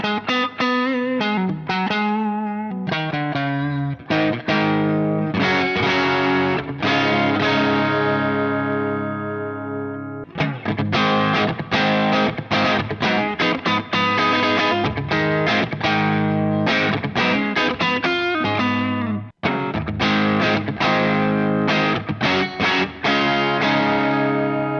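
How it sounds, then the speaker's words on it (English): Electric guitar played through a KWB bunny distortion pedal into a Line 6 POD Go, with thick, sustained distorted chords and riffs ringing out loud and continuous, briefly breaking between phrases. "it's a distortion that you can find under the name KWB, which is Ben Adrian's bunny distortion"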